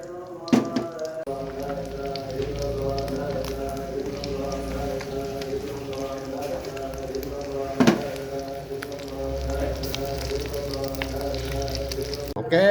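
Freshly caught fish fries in oil in a pan over an outdoor fire, a steady close sizzle and bubbling with a couple of brief knocks, and no talk over it.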